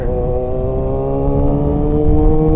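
A Kawasaki ZX6R motorcycle engine runs close by with a loud, steady rumble, its pitch edging slightly higher over a couple of seconds as if idling up, with no talk over it.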